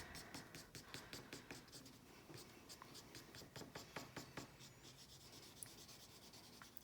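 A marker rubbed in quick, rhythmic back-and-forth strokes across a linocut relief block, giving soft, close scratchy scribbling with no voice over it.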